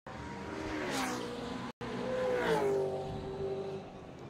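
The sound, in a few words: Porsche race car engine during motor race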